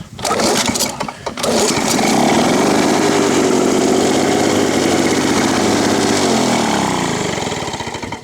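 A Lawnboy 19 mower engine, freshly restarted with grass clippings still about, catches after a couple of sputters and settles into a loud, steady running drone that holds for several seconds, then begins to fade slightly.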